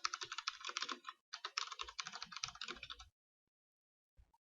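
Fingers type on a computer keyboard while entering a spreadsheet cell in Excel, with two quick, close runs of crisp key clicks separated by a short pause and a few isolated taps at the end.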